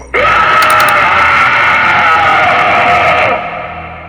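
A long, loud, sustained scream rises sharply and holds steady for about three seconds before trailing off, piercing and close.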